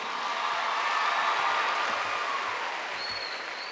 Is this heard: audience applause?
yes